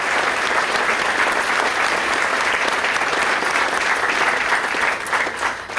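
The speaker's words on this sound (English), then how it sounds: "Let's give them a round of applause." Sustained audience applause fills a Sacramento State Distinguished Alumni Awards ceremony, a dense, steady clapping from a large crowd that holds for about six seconds before thinning slightly at the end.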